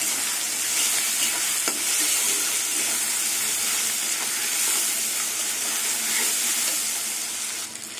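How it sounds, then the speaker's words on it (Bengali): Katla fish curry masala with onion paste and tomato sizzles steadily in the pan while a spoon stirs it now and then, a close, continuous frying hiss with no one talking. "সব কিছু দিয়ে এবার কিছুক্ষণ কষিয়ে নেব।"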